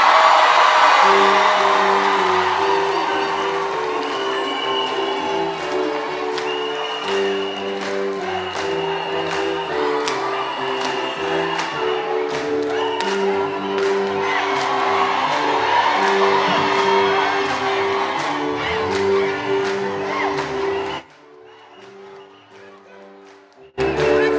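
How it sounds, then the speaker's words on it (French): Church youth congregation at a Sunday worship service applauding and cheering loudly over sustained music, a steady wash of clapping and whoops for about twenty seconds before it drops away abruptly. "Applaudissez-la."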